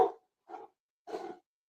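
Dogs barking in the background during a casual knife discussion, three short separate barks spread over under two seconds, fairly faint and heard without any talk over them.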